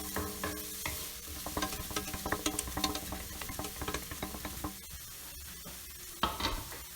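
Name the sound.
sautéing chopped carrot, beans and capsicum in a pan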